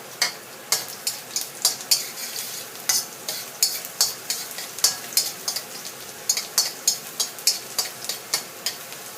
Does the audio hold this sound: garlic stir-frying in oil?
yes